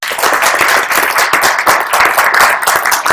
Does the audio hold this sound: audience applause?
yes